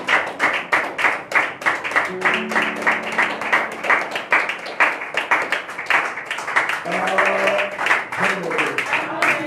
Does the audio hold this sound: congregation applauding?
yes